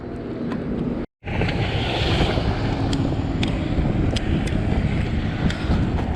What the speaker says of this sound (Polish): Fale robią jak na morzu, nie?